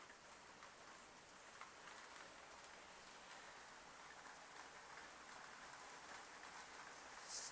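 Light spring rain pattering outdoors as a soft, steady, continuous hiss of fine drops, faint and even throughout with no voices.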